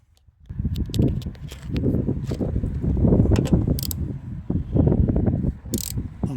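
Ratchet clicking and mechanical rattling while bolts are unscrewed from a Porsche 986 door actuator, several bursts of close, busy metallic clatter with short pauses between them, no talking.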